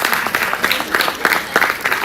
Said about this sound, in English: The audience, give yourselves a big round of applause